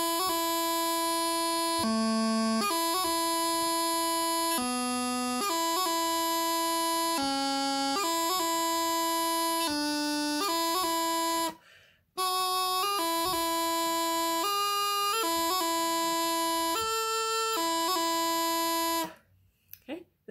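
Practice chanter playing a double E doubling scale that climbs from low G, with bright reedy sustained notes stepping through the scale and crisp grace-note flicks, broken by one short pause near the middle before a final run.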